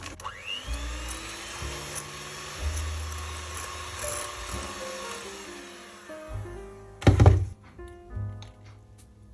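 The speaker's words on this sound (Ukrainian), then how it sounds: "Виливаємо вершки в окрему ємність і починаємо збивати до середньом'яких піків." An electric hand mixer whips cream in a separate bowl toward medium-soft peaks, its motor whirring steadily with pitch shifts and a few knocks of the beaters against the bowl. Nobody speaks.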